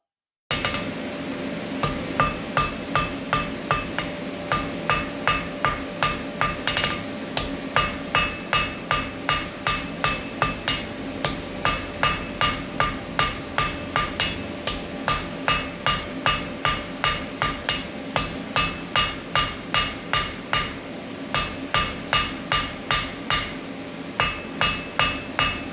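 A blacksmith hammers hot steel on an anvil to forge a round taper, striking in a steady, ringing rhythm of dozens of sharp, loud blows with brief pauses.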